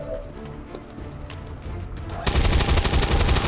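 Gunfire in the strategy video game XCOM 2: quiet in-game ambience, then a sudden loud, sustained burst of rapid shots that fills the last second or so.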